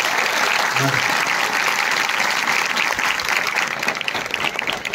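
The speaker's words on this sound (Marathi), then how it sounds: "दीपक सर साठी एकदा टाळ्या झाल्या पाहिजे." An audience at a school educational festival breaks into sustained, dense applause, many hands clapping steadily from start to finish as a crowd fills the hall.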